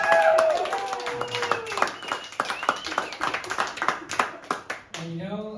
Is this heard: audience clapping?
yes